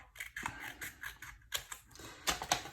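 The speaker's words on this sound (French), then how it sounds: "Je vais enlever juste ici ce qui dépasse. Avec les ciseaux" Scissors snipping away excess paper on a scrapbook album page, a string of crisp close cuts and clicks in an irregular rhythm, with no voices.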